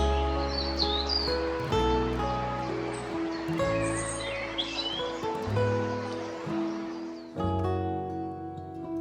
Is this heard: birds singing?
yes